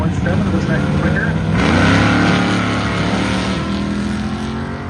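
A 1980 Pontiac Firebird Trans Am launches at an airport charity drag race, its engine roaring loud and rising in pitch as it pulls away, with a broad rumble throughout and a crowd or announcer faintly beneath.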